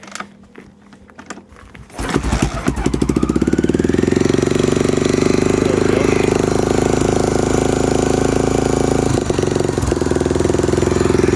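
A 1987 Honda XR600 single-cylinder motorcycle cranks briefly, then fires up and runs with a loud, close, rapid thumping beat that settles into a steady, rough idle with occasional revs.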